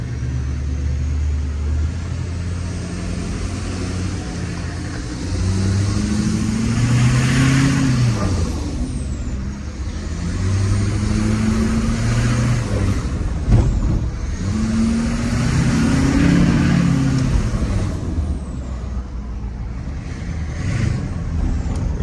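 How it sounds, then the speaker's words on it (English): LBZ Duramax diesel truck with a new intake and hot-side pipe driving: a deep engine rumble that rises and falls through repeated accelerations, with a loud turbo whistle climbing and falling along with it, close and continuous. "You can definitely hear the turbo more."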